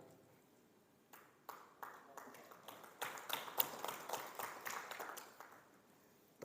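Sparse, faint hand claps from a small audience build into a thin, uneven patter of applause that stays quiet and scattered throughout.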